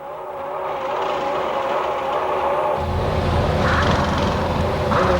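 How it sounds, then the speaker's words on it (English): A 1996 Formula 1 car engine held on its rev limiter at the Australian Grand Prix in Melbourne gives a steady, loud, buzzing drone that grows fuller and rougher midway, with no talk over it. "You hear the engine of the rev limiter? He's trying to keep it right on the limit."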